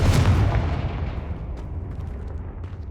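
A single Confringo spell blast from the Hogwarts Legacy video game, loud and close, hits with a sharp booming crack that rolls off into a long, fading rumble.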